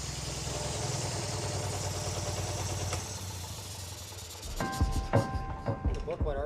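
The engine of a Centurion tank, run after sitting unused for over twenty years, idles with a steady low rumble, joined near the end by sharper clanks and a clear tonal ringing.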